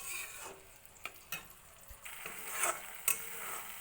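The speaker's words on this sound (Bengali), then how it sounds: "এবার আমি এটাকে ভালো করে মিক্সড করে নিচ্ছি, আর ভালো করে ভেজে কষিয়ে নেব" Spice mixture for cabbage kofta curry fries softly in a pan while a utensil stirs it, giving a quiet sizzle broken by a few sharp scrapes and knocks.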